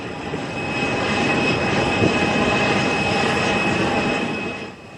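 A jet airliner climbing steeply out after takeoff from Luton Airport on a summer evening, its engines a loud, sustained roar with a faint whine that swells, holds steady and then begins to fade at the end.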